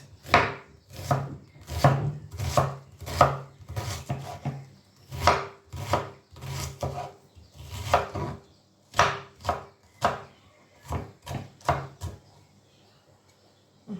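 Close, crisp knife chops through onion on a board, coming in uneven runs of rapid taps before fading to quiet.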